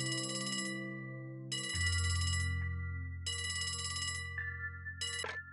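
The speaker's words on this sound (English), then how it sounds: "A phone call?" Phone ringing in the video game Trails from Zero, a trilling electronic bell in four bursts with short pauses between, the last one cut short, sounding over a low sustained musical tone.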